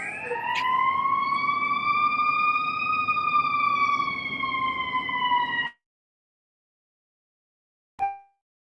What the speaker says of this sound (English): Got an ambulance coming down the street real quick.